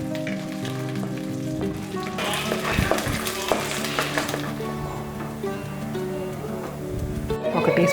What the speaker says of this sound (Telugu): ఇప్పుడు గ్రౌండ్ నట్స్ వేయించుకోవాలి. కొంచెం బ్రౌన్ కలర్ వచ్చేంత వరకు వేయించుకోవాలి.